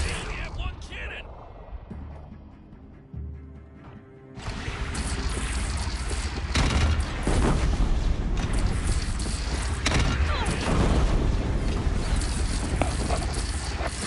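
A cannon fires in the video game Horizon Zero Dawn: a loud booming blast, then sustained heavy battle noise with rumbling and crackling, while a voice talks over parts of it.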